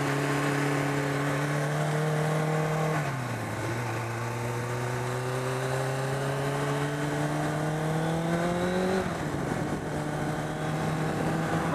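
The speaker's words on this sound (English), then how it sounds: "It is the SLR Mclaren." Mercedes SLR McLaren engine droning steadily from inside the car while driving, its pitch climbing through the gears with two audible shifts, loud and continuous with no talk over it.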